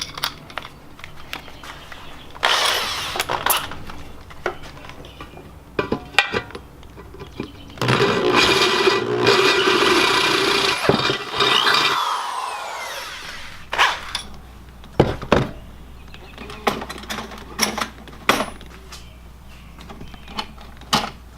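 A power drill with a cheap bit drills into a metal valve cover, whirring in short bursts between clicks and knocks, with one longer sustained grinding run through the middle.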